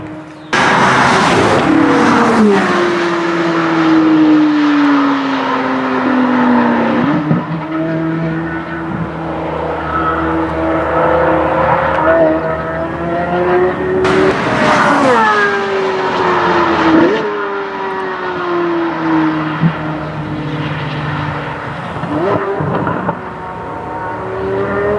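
A Corvette C8 Z06 roars around NCM Motorsports Park, its engine droning loudly as it accelerates and falls off through gear changes, with sharp bursts as it passes close by twice.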